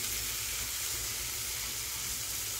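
Chopped tomatoes and onions sauté in a pan for an egg masala gravy, giving a soft, steady sizzling hiss throughout, fairly quiet and even, with no voices.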